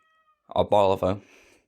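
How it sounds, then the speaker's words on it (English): A cat meowing at a door gives a short, drawn-out meow with a rising and falling tone, close by and clear, with quiet before and after. "I think my cat's at my door, but let's ignore it."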